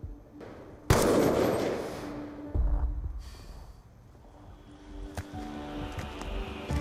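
A single sharp gunshot cracks loudly in Call of Duty: Black Ops 2, then fades into low rumbling ambience with faint thuds afterward.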